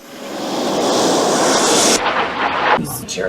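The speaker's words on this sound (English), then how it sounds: "we're on a plane" Loud, steady roar of airplane engines heard from inside the cabin in flight, a broad rushing drone that cuts abruptly partway through and resumes unevenly.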